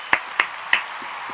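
Three sharp, isolated hand claps for a birthday on a talk show, with slightly uneven gaps between them and quiet room tone around them.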